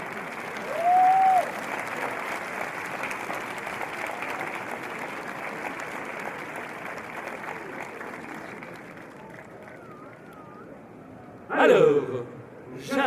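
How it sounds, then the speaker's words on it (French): A crowd applauds the winner of a Renaissance-festival archery final, a broad steady wash of clapping that holds for about ten seconds before thinning out, followed by a short loud burst of sound near the end. "On l'applaudit"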